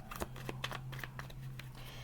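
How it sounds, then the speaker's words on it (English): Tarot cards are shuffled in a quick, soft run of papery riffles and flicks, close and quiet, with a steady low hum underneath and no talking. "whilst I'm shuffling"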